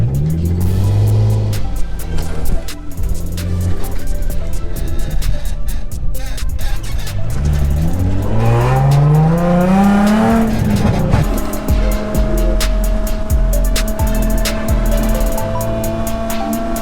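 A Nissan 350Z drifts sideways, its engine revving loud and close with rising and falling pitch sweeps, accompanied by sustained tire squeal and a steady roar.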